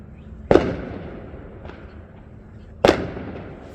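Fireworks bursting nearby: two sharp, loud booms about two seconds apart, each trailing into a brief rumbling decay, with a fainter pop between them.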